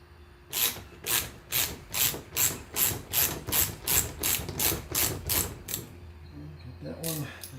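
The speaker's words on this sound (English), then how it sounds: "Might be easier to get the socket on there first." Socket ratchet loosening the bolts on a Mustang's window beltline weatherstripping: about fourteen quick, evenly spaced clicking strokes, close and fairly loud, then a pause and a brief final burst.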